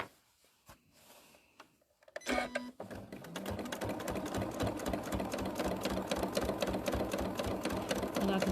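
Sewing machine stitching a fabric collage, running steadily and loudly after a quiet start with faint handling noises, its rapid needle rhythm continuous to the end; the machine is due for a service with a faulty thread cutter.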